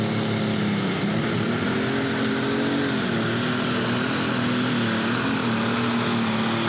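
A Minneapolis Moline MMG 1000 super modified pulling tractor at a tractor pull, its engine roaring loud and sustained with a rumbly, steady drone that rises slightly in pitch, no talk over it.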